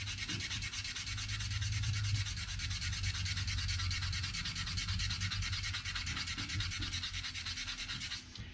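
Steady, continuous abrasive rubbing of sandpaper on stainless steel trim from a 1955 Chevy Bel Air, close and loud, running without pause until it stops abruptly near the end.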